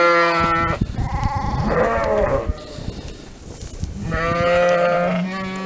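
A calm ewe bleats loudly and close during hoof trimming, giving two long wavering calls with a quieter rustling and shuffling stretch between them.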